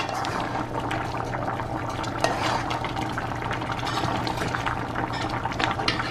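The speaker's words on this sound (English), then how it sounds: "Give it a stir." Lentil pea pelau simmers in a pot with vegetable stock while being stirred, a continuous dense bubbling and wet churning, close and fairly loud, with no voices.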